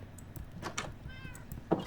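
A cat in the video game Minecraft lets out a short meow near the end, faint and close, over quiet background game ambience with soft clicks.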